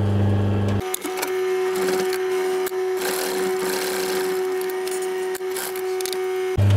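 A sewing machine runs steadily, seaming the edge banding of an upholstered footstool seat cover, its motor hum and rapid needle stitching continuous and close for several seconds before stopping.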